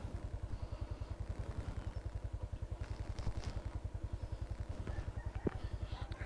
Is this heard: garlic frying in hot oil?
no